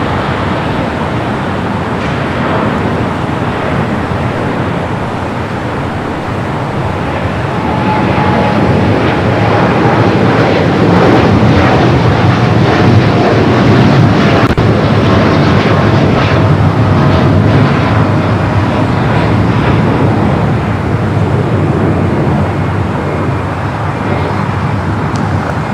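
A Boeing 757-300 arriving from Chicago O'Hare rolls down runway 25 left at LAX, a steady broad roar of jet engine and rushing noise that swells slightly midway and holds loud throughout, with no voices.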